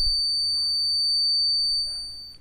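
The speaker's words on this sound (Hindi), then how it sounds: "5 सेकेंड तक ये स्पीकर का बजर जो होगा वो बजता रहेगा" A buzzer on an Arduino doorbell alarm triggered by an IR sensor emits a steady, piercing electronic tone with bright overtones, holding constant and loud before tapering off at the end.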